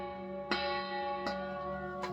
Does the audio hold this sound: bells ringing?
yes